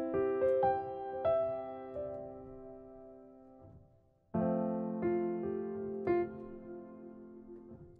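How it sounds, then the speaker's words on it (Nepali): Piano instrument in FL Studio playing a few sustained notes and chords, each struck note ringing out and decaying, a brief pause, then a louder second phrase, with no talk over it. "यो पियानो भइहाल्यो. साउन्ड चाहिँ यस्तो छ यसको."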